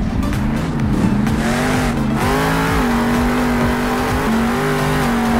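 A monster truck engine revs loudly in the Monster Jam Steel Titans video game, a continuous roaring drone whose pitch climbs and shifts through gear changes, with no talking.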